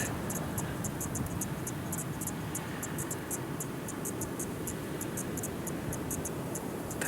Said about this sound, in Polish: To się tak fantastycznie śpi przy szumie oceanu i cykat.